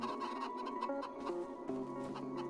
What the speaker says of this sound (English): this is the chicken coop. There is, how many? 40 chickens.